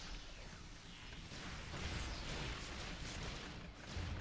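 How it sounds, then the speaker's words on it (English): Starship cannons fire in Star Trek Online space combat, a rapid run of sharp bursts and booms that blur into a dense rumbling barrage, with no talk over it. "I love the cannons."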